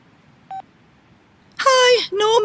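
A telephone keypad gives a single brief dialing beep when a number is entered to call someone back, then a voice starts speaking nearby.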